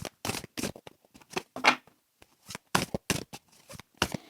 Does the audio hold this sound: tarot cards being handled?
yes